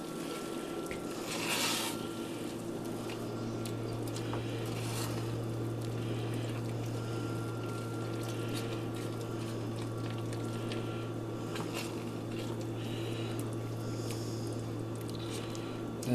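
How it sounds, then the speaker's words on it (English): Rice pudding being stirred continuously in a big pan holding a double batch: soft, steady wet swishing and scraping throughout, with a constant low hum underneath and a brief louder scrape near the start. "now we have to stir this for 2 or 3 minutes"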